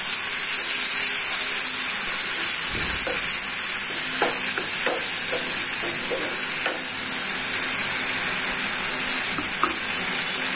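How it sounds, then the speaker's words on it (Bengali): Spice paste loosened with water is stir-fried in a pan, giving a loud, continuous close hiss and sizzle with intermittent scraping and knocking of a spoon against the pan. "মশলার বাটি দিয়ে জল দিলাম, জল না দিলে মশলা ভালো করে কষানো যাবে না।"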